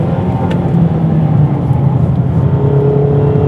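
A Mazda MX-5 pulls uphill on a race circuit, its engine droning loudly and steadily under load without a pause.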